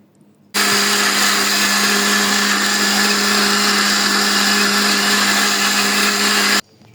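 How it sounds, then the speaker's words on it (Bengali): A kitchen blender whirs steadily at high speed, pureeing beetroot with a little water for halwa; the loud, even motor drone with a constant hum runs for about six seconds, then cuts off abruptly. "এখন ব্লেন্ড করে নেব।"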